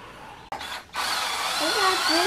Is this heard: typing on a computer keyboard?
no